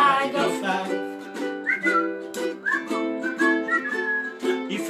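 Someone whistles a tune during a small ukulele concert, clear melodic phrases close up, carried alone without talk.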